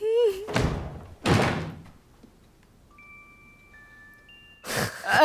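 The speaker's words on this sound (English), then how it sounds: "Why are you kicking in my door?" A door being kicked in during a film scene, two heavy slamming impacts about a second apart followed by a quieter stretch and a third loud bang, with a little voice sound mixed in.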